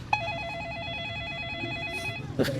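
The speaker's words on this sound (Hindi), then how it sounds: "फोन आ गया जी बीच में।" A mobile phone rings during an outdoor street interview, a steady electronic warbling ringtone over faint background noise, followed by a brief rustle as it is handled.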